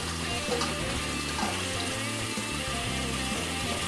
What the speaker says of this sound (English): I'll bring the water up until it's covering the lettuce.